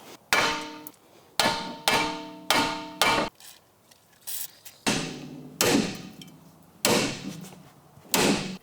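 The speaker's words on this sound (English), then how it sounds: "I have to hit it with a hammer" Heavy hammer blows strike metal while installing coilovers on a VW MK4, in irregular bursts, about nine sharp ringing clangs with short pauses between groups, close and loud, with no talking.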